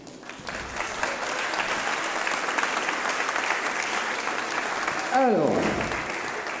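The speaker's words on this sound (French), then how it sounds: "Je vais vous demander d'applaudir Monsieur Roméo" Church audience applauds a guest, Monsieur Roméo, with sustained dense clapping throughout, and a voice speaks briefly over it near the end.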